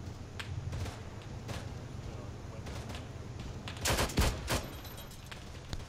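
Bursts of gunfire from a military video game crackle at moderate distance, with scattered single shots and a louder rapid cluster near the end over a steady background rumble.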